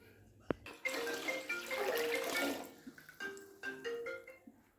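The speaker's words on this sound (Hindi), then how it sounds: "इसमें और पानी डालेंगे" Water pours into a pot for jaggery rice in a home kitchen in a couple of splashing bursts, close and fairly quiet.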